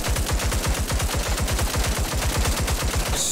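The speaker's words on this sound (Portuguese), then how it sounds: "o maluco errou todos os tiros" Continuous automatic gunfire from the mobile battle royale shooter Disorder: rapid, evenly spaced shots rattle on loudly for the whole stretch, with no voices.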